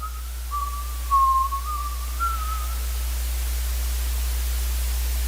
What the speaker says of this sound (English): Timothy heard a familiar whistling coming from outside.